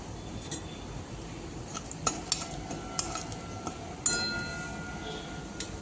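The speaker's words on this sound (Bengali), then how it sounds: "এবার ফোড়নে দিয়ে দিচ্ছি দুটো শুকনো লঙ্কা" Dried red chillies and cardamom dropped into hot oil in a pan, a faint sizzle beneath intermittent metallic clinks of a spatula stirring against the pan.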